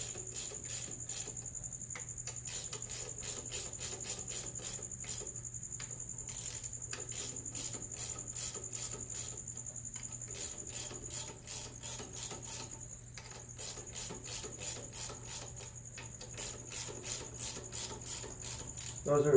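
A ratchet clicks in steady, rapid bursts while tightening the small clutch cover bolts on a Ducati motorcycle, the close ratcheting repeating throughout with brief pauses and no talk.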